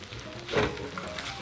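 Unagi fried rice mixed with condiments sizzles softly in an oiled pan on the fire, a quiet continuous fry with one brief louder stir in the middle.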